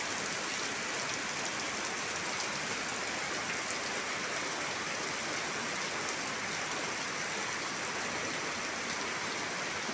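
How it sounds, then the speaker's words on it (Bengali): Heavy rain pours steadily outside a restaurant in the Maldives, a dense, constant hiss of water falling from above and splashing below, loud and unbroken throughout with no voices. "বৃষ্টি জোরে, উপর থেকে পানি পড়ে নিচে।"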